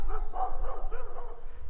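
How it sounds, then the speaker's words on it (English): Several big dogs bark in a quick, continuous series beside a railway track, fairly close and loud, with overlapping yips and woofs. "And those are some big old dogs barking over there."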